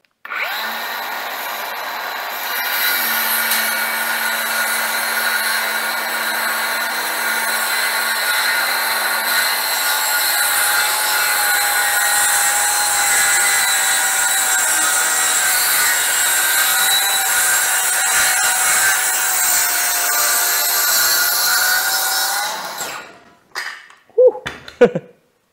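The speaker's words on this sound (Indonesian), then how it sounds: "kita tes untuk potong papan penolik dengan tebal 2 cm" A brushless cordless circular saw rips through a 2 cm thick wooden board in one long steady cut of about twenty seconds, loud, close and high-pitched, then winds down and stops, followed by a few brief knocks.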